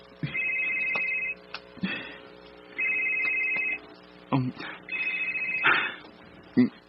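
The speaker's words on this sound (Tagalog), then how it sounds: "Dawata kayong cellphone." A cellphone rings in repeated bursts, each a steady electronic tone lasting about a second, with short gaps and a few soft knocks and bumps in between.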